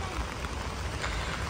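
Steady rain falling on a street in Vienna, Austria, on a wet day, a close, dense hiss of drops hitting the ground that continues evenly with no voices.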